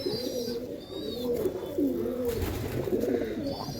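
Pigeons coo steadily from a top-breed racing pigeon sale in Tenali, Andhra Pradesh, with low soft repeated calls close by, some higher chirps in between, and a faint background throughout.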